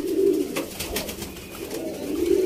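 A large, long-bodied male pigeon coos in low, steady murmurs close by, set among other birds at a pigeon loft.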